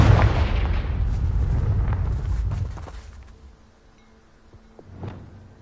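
A Confringo fire spell blasts in Hogwarts Legacy, a loud rumbling explosion that rolls on for a few seconds and fades, followed by a smaller pop near the end.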